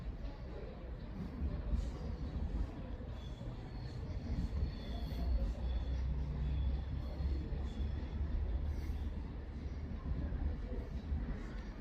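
An Avanti West Coast Pendolino train passes at Crewe station with a continuous, fairly close rumbling roar of wheels and traction, holding steady throughout with a faint whine riding on top.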